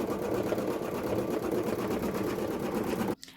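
An embroidery machine stitching out the final thread color of a photo design, running as a steady, dense mechanical whir with rapid rhythmic needle pulses, loud and close, before stopping abruptly near the end.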